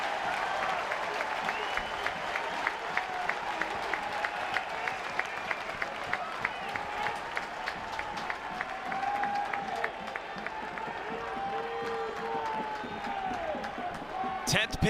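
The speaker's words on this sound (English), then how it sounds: "Listen to this crowd, loves it from the freshman Levi Clark." A college baseball crowd at a Tennessee versus Cincinnati game claps and cheers steadily in a large stadium, with sustained applause, scattered whoops and a commentator talking over it.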